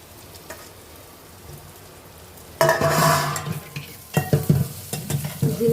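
Cumin-garlic paste and chili powder hitting hot oil for a spicy fish curry, a quiet background sizzle that bursts into loud, crackling frying midway, followed by scraping stirs, close up and without speech.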